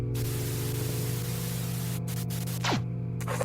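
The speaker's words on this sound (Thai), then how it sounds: "เสียงทีวีเปล่า ทีวีเปิดติดแล้วครับ" Steady hissing static from a TV in a video game, with an underlying hum, loud and continuous, briefly cut by a falling electronic tone near the end.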